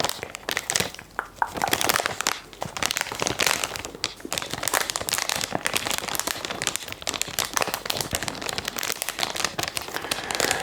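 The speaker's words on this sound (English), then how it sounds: "I love this one because it's in lovely, crinkly wrapping." Crinkly plastic wrapping on a notebook being handled up close, a dense, continuous crackling and rustling with sharp snaps throughout, loud and intimate, with no talk.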